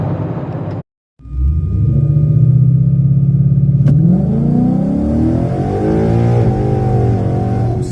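A 2013 Ford Mustang GT with a 6R80 automatic launches hard at a drag strip, its engine roaring up loud and close after a brief silence, the tires spinning as revs climb, then settling into a steady pull.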